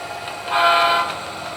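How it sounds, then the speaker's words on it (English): A model train horn on a layout gives one short, steady toot, reedy and fairly close, over a faint background hum. "Honking for the horses as usual."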